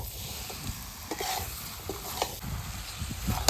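Potatoes sautéing in a pan for Bengali alur dom, with a steady close sizzle and scattered scraping stir strokes at irregular intervals throughout, and no voices.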